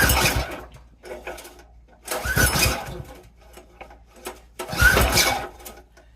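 A Predator 301cc small gasoline engine, its carburetor bowl previously full of rust and water, sputters and surges in uneven bursts, catching and dropping off repeatedly at close range with no talking.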